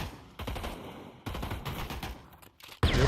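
Sustained automatic M4 rifle fire in Pavlov VR competitive play, rapid dense bursts with brief gaps and a sharp loud burst at the end, with no talk over it.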